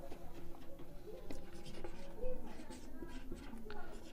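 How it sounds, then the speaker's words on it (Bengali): Chalk or marker writing on a board during a chemistry lecture, soft scratchy strokes in short bursts, quiet and close. "আচ্ছা, এটা উপরে লিখি"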